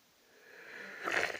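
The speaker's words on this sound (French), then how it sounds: "je suis obligé de renifler un peu le nez pour dégager un peu les voies respiratoires" One drawn-out sniff through a blocked nose, rising in strength and ending with a wheezy, snorting rush of air close up.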